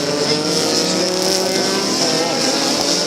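An Audi prototype race car in an American Le Mans Series race at the New England Grand Prix screams past loudly, its high-revving engine roaring steadily for a few seconds.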